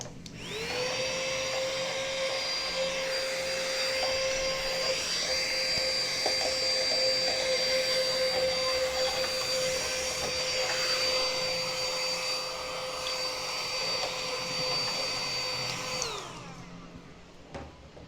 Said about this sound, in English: the reason why I bought that little mini hoover, guys, is purely because it gets into some of the nuts and crannies that I can't get into